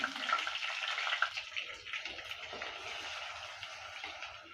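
Ground small-onion paste sizzles and fries steadily in a pan for an anchovy fish curry, a continuous close crackle with faint stirring and no talking.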